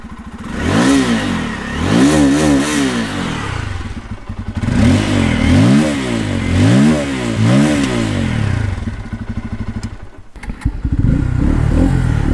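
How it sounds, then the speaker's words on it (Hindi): A Bajaj Pulsar N250 motorcycle revs repeatedly nearby, its exhaust note climbing and falling in a series of loud throttle blips with a short pause before a final rise. "इसका एग्जॉस्ट नोट सुन लेते हैं"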